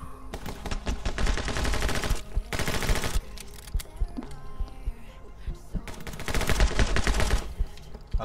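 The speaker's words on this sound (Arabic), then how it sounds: "خلنا نشوف رشاش القليل من الرشاش" A machine gun fires in My Friend Pedro in long rapid bursts, loud and close, broken by short pauses and quieter game sounds between the volleys.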